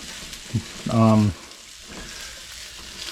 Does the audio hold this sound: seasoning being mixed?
yes